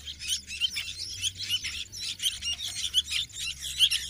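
Seven young sooty-headed bulbuls (kutilang) chirp and squeak continuously in a dense, overlapping chorus of high, rapid calls, fairly close and with no voices over them.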